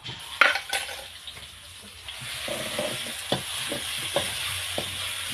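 Loud sizzling from a hot wok stir-frying holy basil with pork and squid, a utensil scraping and clanking against metal as food is tossed and stirred, close up and continuous.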